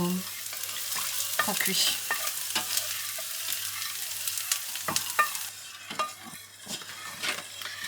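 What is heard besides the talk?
onions browning in pan for lasagne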